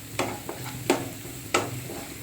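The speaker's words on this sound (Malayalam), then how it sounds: "നമുക്കിത് പായസത്തിനകത്തോട്ട് ഒഴിച്ചു കൊടുക്കാം" Fried cashews and raisins are poured from a hot pan into aval payasam, a few sharp clattering splashes with a brief sizzle, close and fairly loud.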